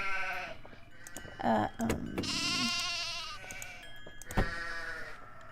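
Several electronic sheep bleats with a synthetic, game-like tone from Nancy Drew: The Haunting of Castle Malloy, overlapping with background chimes and ambient effects, moderately loud.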